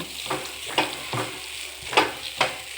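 Gojju avalakki, a flattened-rice dish, being mixed in a pan over a low flame: a few scattered spoon scrapes against the pan at irregular intervals over a faint background hiss, close and fairly soft, with no voices.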